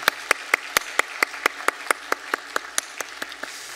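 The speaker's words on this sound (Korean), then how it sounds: "박수로 환영하겠습니다." A few people clap in a church service to welcome new members, sparse and evenly spaced hand claps with a steady rhythm that slowly fades.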